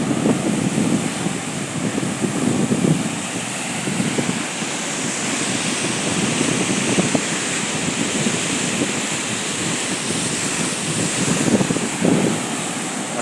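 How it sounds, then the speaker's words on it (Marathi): Waves roll in and break along a seaweed-strewn seashore, surging in a few louder pulses over a constant rushing wash, with wind noise against the microphone throughout. "लाटा बघसले येत आहेत"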